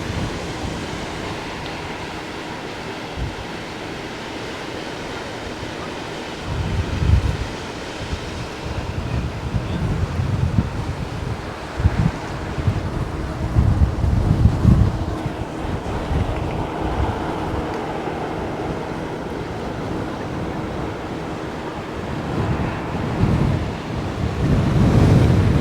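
Sea waves and strong wind roar from the rear deck of a cruise ship bound for the Bahamas, a loud continuous rushing wash with heavy wind buffeting on the microphone and swelling surges, no talk.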